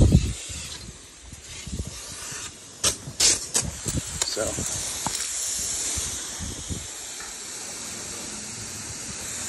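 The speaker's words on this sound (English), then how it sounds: "The moment I turn on the water," A garden hose sprays water across a backyard lawn in a steady, loud hiss, with scattered sharp clicks and rattles over it and a voice speaking briefly.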